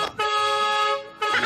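A vehicle horn gives one sustained, clear blast lasting about a second, breaks off briefly, then starts sounding again, close and fairly loud.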